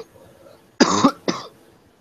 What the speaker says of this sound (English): See, I coughed when I did that.